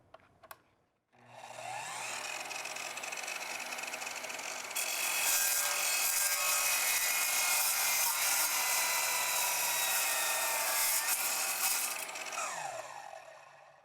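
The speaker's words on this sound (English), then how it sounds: "Let's see a miter cut." A carbide metal-cutting saw spins up and cuts through metal at a miter angle, a loud sustained high whine with grinding texture that intensifies midway, then winds down after about twelve seconds.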